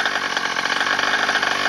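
A 49cc gas-powered toy monster truck engine idles in cold weather during break-in. It gives a steady, loud, buzzing two-stroke drone with a fast, even pulse throughout.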